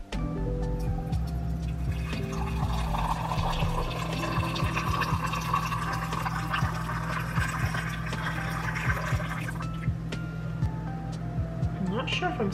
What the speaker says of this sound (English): Let's try pouring water into this thing and clean it out.